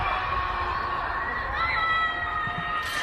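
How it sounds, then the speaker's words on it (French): In a residential district of Shanghai under strict lockdown, people at their windows shout and scream in anger. The noise is a steady, distant crowd roar with whoops rising through it. "Écoutez ces cris dans un quartier résidentiel. Les gens sont à leurs fenêtres et ils hurlent leur colère"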